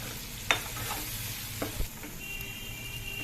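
Masala gravy frying in a pan with pieces of stuffed brinjal curry, giving a continuous close sizzle with a few sharp stirring clicks near the start and middle.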